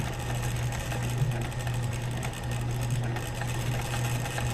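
A White 600 sewing machine runs continuously after reassembly, giving a steady mechanical whir and rapid stitching patter close by with no talk.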